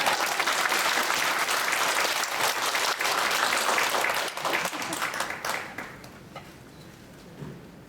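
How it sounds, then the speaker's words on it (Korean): Audience applause at a lecture, loud dense clapping at first that thins out and fades over the last few seconds, leaving scattered claps and quiet room noise. "박수를 보내주시기 바랍니다"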